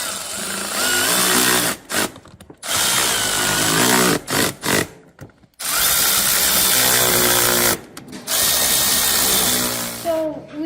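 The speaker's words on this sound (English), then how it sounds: "Now we're going to tighten all these bolts." A power tool tightens bolts on a Yamaha powered golf cart, whirring loudly in several long bursts broken by short pauses and quick stop-start pulses.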